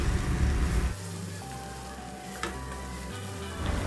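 Coriander, chili and turmeric powders sauté in a hot pan for a chicken biriyani, a close steady sizzle that drops briefly and returns, with a faint scrape of stirring.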